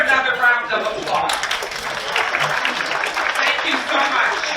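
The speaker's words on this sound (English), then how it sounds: "Let's give her another round of applause." Audience applause at a conference on human trafficking, a dense wash of clapping filling the hall with a voice heard over it near the beginning.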